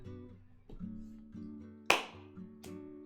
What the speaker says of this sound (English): Sorry for clapping, I was just getting into the song.